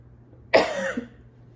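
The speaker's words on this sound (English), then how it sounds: "I think I still coughed on camera." A single sharp, raspy cough bursts out close by, trailing off into a brief throaty rattle over a faint low hum.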